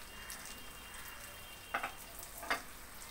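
Small mola carplet fish being tossed in hot oil in a pan with fresh coriander leaves: a quiet sizzling hiss with two brief scraping, clattering stirs near the end.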